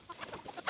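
Newly added backyard chickens clucking softly near scattered scratch feed, a few short close clucks in a quick irregular rhythm, ending in a slightly louder cluck.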